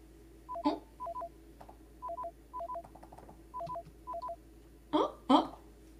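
Telephone keypad dialing tones in a horror video game, short two-tone beeps in an even sequence over a dim background, followed by a couple of louder, harsher bursts near the end.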